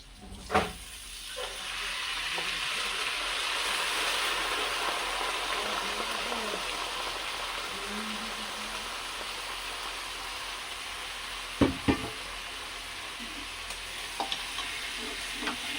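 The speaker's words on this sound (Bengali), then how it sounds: "এবার এই চালটাকে ভালো করে নেড়ে ছেড়ে একটু ভেজে নিতে হবে।" Drained Gobindobhog rice stirred and fried in a pan: a continuous soft sizzle and hiss with a few clear spoon knocks against the pan near the start and toward the end.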